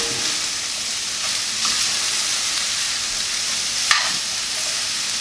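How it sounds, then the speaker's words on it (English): Steady, close sizzling of onions frying in a pan, with a soft stir or toss partway through; nobody speaks. "You can hear the moisture coming out."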